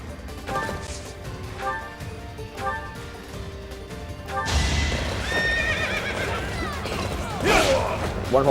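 In the Fire Emblem Three Houses video game, rhythmic hoofbeats and clattering lead into a loud crash, followed by a horse whinnying sharply near the end, all over a busy game soundtrack.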